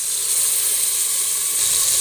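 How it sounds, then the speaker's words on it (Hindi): Water poured into a pan of frying vegetables with green chillies, turmeric, red chilli powder and salt sets off a steady, close sizzling hiss that holds evenly for about two seconds. "इसमें हम थोड़ा सा पानी डालेंगे।"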